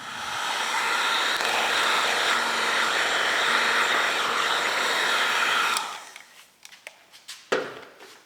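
A heat gun blows loudly and steadily for about six seconds while shrinking 3:1 black heat shrink tubing over a wiring connection for Land Rover LED light pods, then cuts off, leaving faint handling clicks and taps.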